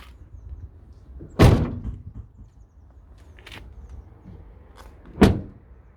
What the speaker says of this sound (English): Let's close the doors.